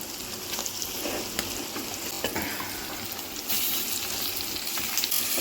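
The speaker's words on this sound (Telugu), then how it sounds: "ఇప్పుడు మనం ఏం చేద్దామంటే ఇవ్వండి కొరమీను ముక్కలు వేసేస్తున్నాం" Murrel fish pieces frying in a pan of ginger garlic paste make a steady, loud sizzle and spatter that runs continuously throughout, with a few brief clinks from stirring and no voices.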